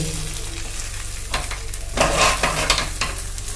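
Dal being stirred and fried in a pan as it thickens and turns sticky: a continuous sizzle under bursts of scraping stirring strokes, louder near the middle, with no talk.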